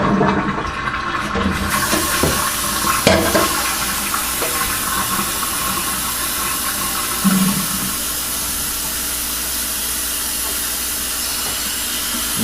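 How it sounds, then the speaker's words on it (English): Milk poured from a pan into a container while making yogurt, a steady liquid splash and pour close by, loudest at the start and easing into a continuous gentle trickle with a brief clunk midway. "then I take the rest of my pan of milk and dump it in, spilling a little as I go"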